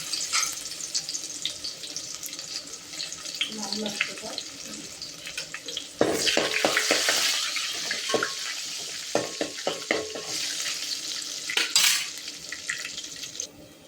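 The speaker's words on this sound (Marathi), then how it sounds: "त्याच्यामध्ये तेल टाकलंय आणि हा लसूण टाकू." Garlic sizzles in hot oil in a pan while a Marathi dish is being prepared, with a steady frying hiss, short clinks and stirring noises, and a soft voice speaking in the background.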